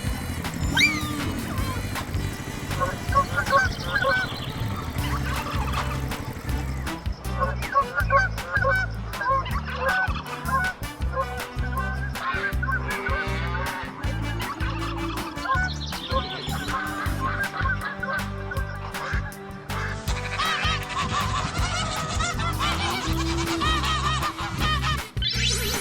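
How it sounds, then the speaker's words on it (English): Geese honk repeatedly in a farm-animal sound sequence, loud nasal calls laid over a continuous musical backing track that runs the whole time. "Goose."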